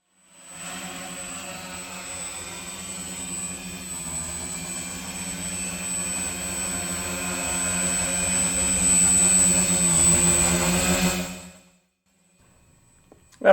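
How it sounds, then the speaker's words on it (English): Custom-built multirotor drone in flight, a steady loud motor and propeller whine with strong tonal harmonics, holding for about eleven seconds, swelling slightly toward the end and then cutting off abruptly, with no talking. "I'm quite happy with the flight characteristics and also with the performance of the drone"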